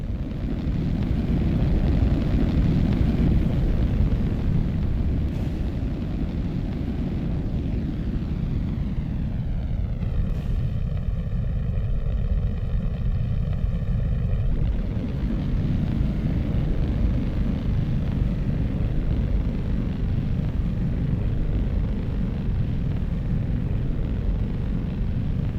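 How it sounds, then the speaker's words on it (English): A rocket's landing burn engine in the Fusion Two: Last Generation game roars as a steady, loud, broadband rumble, with a rising tonal whine sweeping through for a few seconds partway through. "Landing burn startup."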